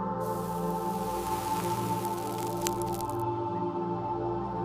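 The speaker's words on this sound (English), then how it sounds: "Watch as a worker pours water onto the sand, just in front of the heavy wooden sledge" Water poured onto sand in front of a heavy wooden sledge, a steady splashing, seeping wash running close and continuous for several seconds before easing, over a low droning background.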